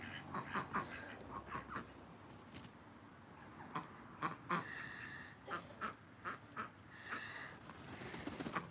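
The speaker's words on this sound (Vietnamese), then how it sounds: "Mình theo mấy con vịt đi vòng vòng chơi nha." Ducks quacking in bursts of loud, close calls with short pauses between, wandering around a home yard in Montana with little else heard.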